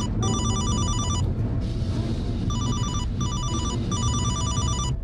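A telephone rings in loud repeated electronic bursts, pausing briefly and then resuming, over a steady murmur of background noise and low room sound.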